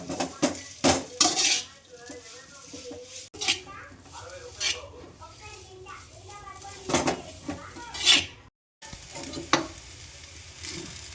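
Veg noodles are tossed and mixed in a sizzling pan, with repeated sharp clanks of a utensil against the metal over a frying hiss while a voice talks at times.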